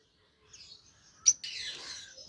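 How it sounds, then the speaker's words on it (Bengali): A green lovebird at a local bird farm gives a few brief, faint chirps, then one sharp louder tweet and a short trill, in an otherwise quiet room. "এটা হলো গ্রিন ইউইন লাভবার্ড পাখি"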